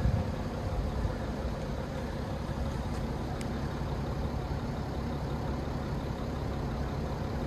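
A BMW 430d M Sport diesel idles with a quiet, even rumble that holds steady throughout. Two brief faint ticks appear midway, and no one speaks.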